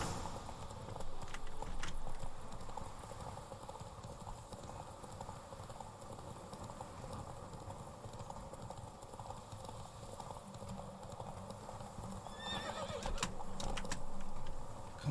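Roach the horse trotting in The Witcher 3, hooves clip-clopping steadily under a muffled game soundscape, with a few sharp clicks toward the end.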